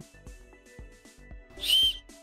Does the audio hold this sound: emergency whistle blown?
yes